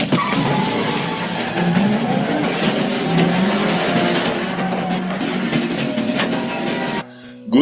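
A car speeds up during a chase scene, a steady loud engine roar with rising tone running almost throughout before an abrupt cut near the end.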